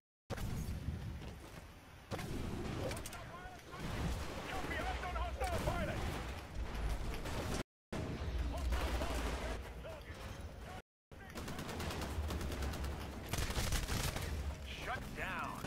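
Dense automatic turret gunfire in a Titanfall capture-the-flag match, rapid bursts running almost continuously with booming impacts and mechanical clatter, loud throughout apart from two brief gaps.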